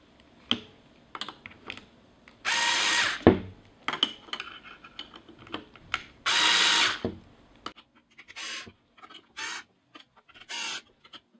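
A cordless screwdriver drives screws while a bicycle crank bearing is fitted. There are several short bursts of whirring motor, two longer runs and a few brief ones, separated by clicks and handling knocks.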